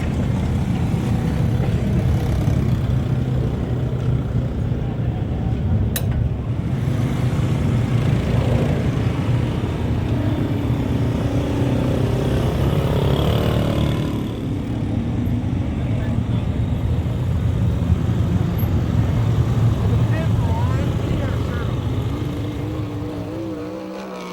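USAC/CRA sprint cars race around the Perris, California track in the Firecracker 30, a dense, loud engine roar sustained throughout with swelling passes and a brief dip midway.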